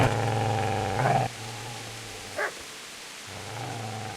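A dog barking in Kingdom Come: Deliverance, a few gruff barks and growls over steady low game ambience, with a short sharp yelp partway through.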